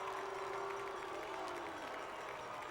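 Frontier football crowd at a night game against Stockdale roars in disapproval of the officials' call, a dense, steady wash of cheering, shouting and some clapping heard from a distance throughout.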